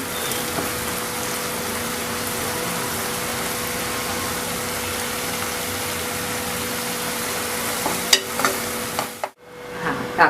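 Onion and coconut masala frying in a pan for chicken gravy gives a steady, close sizzling hiss, with a few sharper clicks and scrapes near the end before it cuts off abruptly.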